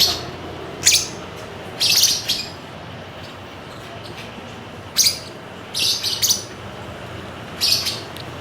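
African lovebirds, hand-fed pet birds, give short bursts of bright chirps and squawks in repeated clusters over a quiet room, with no talking.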